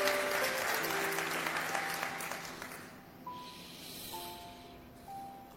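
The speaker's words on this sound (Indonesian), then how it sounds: "Kita beri tepuk tangan untuk kebenaran ini." A church congregation applauds during a sermon, with a wash of clapping that fades over a few seconds. Sustained organ or keyboard tones sound underneath, and sparse claps linger afterward.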